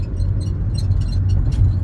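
A Toyota Prius rolls over rough bridge pavement, giving a steady, loud low tire rumble with a continuous drone and faint higher hiss, no voices.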